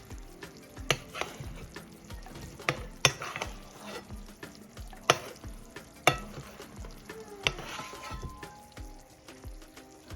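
Salmon teriyaki sizzling in a pan, a steady low sizzle with repeated sharp clinks and scrapes of a utensil against the pan as sauce is spread over the fish, fairly faint and close.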